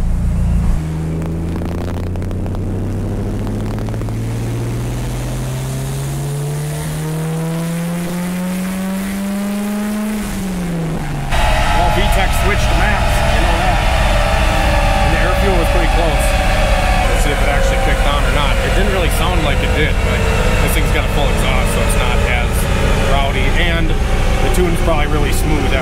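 Turbocharged B16 VTEC engine in a Honda Del Sol revving on a dyno, a loud continuous rising drone that climbs for about ten seconds, then jumps to a harsher, higher-pitched roar as VTEC engages and holds near full power.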